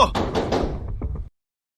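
Someone pounds on a door, a quick series of heavy, close knocks running for about a second before the sound cuts off abruptly.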